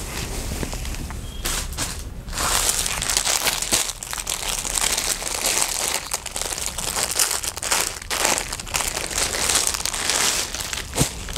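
Crinkling plastic packaging around a saree, handled up close in a quiet room, with steady rustling and crumpling that swells and fades in bursts.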